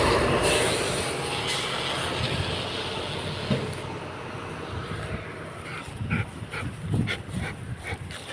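A dog barks a few times at moderate distance near a condominium by Bedok Reservoir, over a steady rumbling background, with sharp bursts clustering toward the end.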